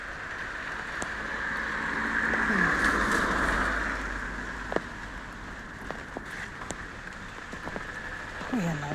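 Heavy rain pours steadily on a road outside a shop, a dense constant hiss with occasional louder drips and a passing vehicle swelling through the downpour.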